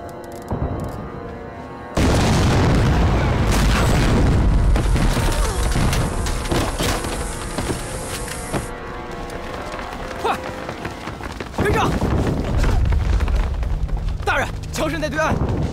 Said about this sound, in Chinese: 兴许是有人家在放烟花爆竹吧。